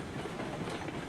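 Train rolling along in the video game RailRoads Online, a continuous rumbling clatter of wheels and engine at steady volume with no talk.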